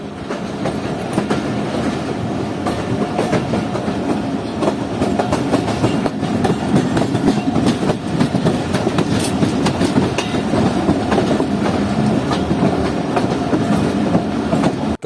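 The Jaffer Express, a passenger train pulled by three engines, rolls along rails toward Quetta with a loud, steady roar and rhythmic clickety-clack of wheels over joints, heard from on board with no talk.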